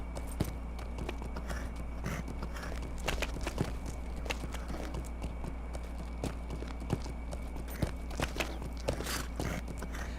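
A horse walks over rubble in Lord of the Rings Online, producing irregular clattering hoof steps at a moderate pace, close and steady over a continuous low background hum.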